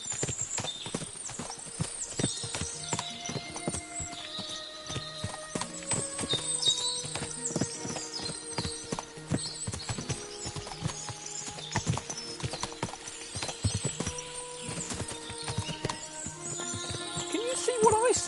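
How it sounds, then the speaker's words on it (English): Many horses clip-clop on hard ground in a medieval video game, Kingdom Come: Deliverance II, a dense continuous clatter of hooves with occasional whinnies and faint background voices. "What a lot of horses!"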